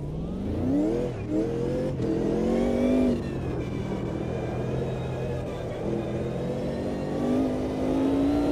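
A race car with a locked differential accelerates out of a corner, the engine note sweeping upward through the revs in a loud, close, rising roar with a brief shift dip before pulling on again.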